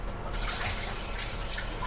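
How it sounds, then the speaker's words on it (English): Hands are washed under a kitchen tap, a steady rush of running water with soft splashing, close and continuous for a couple of seconds. "So I'm just going to wash my hands."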